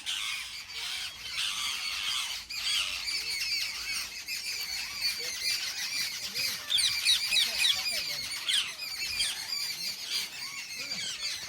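A noisy flock of parrots squawks and screeches continuously alongside sparrows at Indroda Park, Gandhinagar, shrill overlapping calls filling the air at close range.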